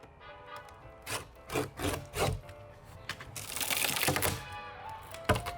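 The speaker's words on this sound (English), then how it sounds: "he could use a box cutter in place of a jigsaw" A box cutter slicing through a thin wooden door panel in a series of distinct rasping strokes, several separate cuts followed by a longer, louder scraping pass and one sharp final snap, close by with no talking.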